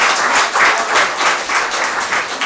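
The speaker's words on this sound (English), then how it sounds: "round of applause" Close, loud applause from an audience at a Kiwanis Club soirée, dense clapping that swells and eases in uneven waves without stopping.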